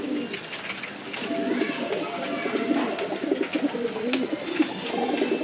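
Pet pigeons kept in pairs coo in low, rolling, overlapping phrases close by, with occasional wing and perch noises in a steady backdrop.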